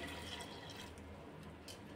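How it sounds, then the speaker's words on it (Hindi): Water pours into a pressure cooker holding moong dal with turmeric and salt, a faint, steady, close splashing fill with no voices. "पानी डालेंगे,"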